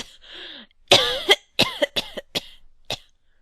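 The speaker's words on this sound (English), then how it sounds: "How long have you had that cough?" Several harsh coughs in a short fit: a faint breathy lead-in, then a burst of about six or seven sharp, close hacks spaced unevenly over a few seconds.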